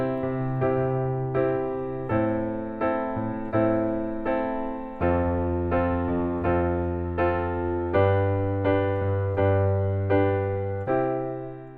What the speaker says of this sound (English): This next groove is called the pop rock, and it sounds like this.